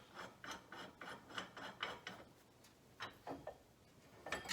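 A bearing spreader being opened on a Ford TW 20 tractor during an axle removal: a run of quiet metallic clicks and ratcheting scrapes in uneven bursts, close but faint, with no talk.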